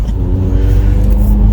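Loud car engine accelerating during a street race against a Mazda RX-8, a steady mid-pitched growl that holds strong and continuous over a second and a half with no talk.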